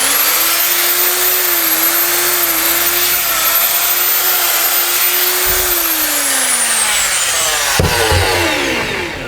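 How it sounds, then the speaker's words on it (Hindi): An electric drill machine runs on mains power after a new armature has been fitted, giving a loud, steady motor whine that holds for about eight seconds and then begins to wind down slightly near the end. "तो आपको दिखाई दे रहा होगा हमारी मशीन अब पूर्णतः चल रही है।"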